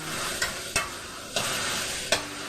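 Chicken stir-fried with seasoning sauce in a hot pan for Thai dry-chili chicken basil, a constant sizzle broken by four sharp scrapes of a spatula against the pan, close and alone.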